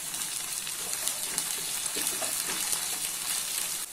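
Mutton pieces fry in a pan with ginger garlic paste and chopped green chillies, giving a steady bright sizzle that runs unbroken, with light stirring crackles close by.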